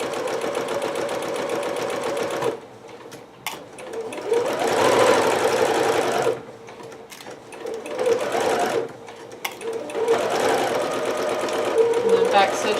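A sewing machine runs in bursts, back stitching a seam on a Butterick 6322 Pikachu dress: rapid mechanical whirring that stops and restarts several times, with short pauses between runs.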